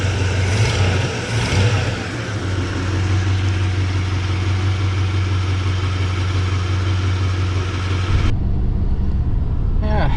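The engine of a 1978 El Camino runs close and loud, its tone rising as the throttle opens and holding steady, with a voice talking over it before cutting to a quieter hum.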